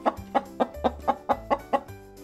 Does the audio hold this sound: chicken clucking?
yes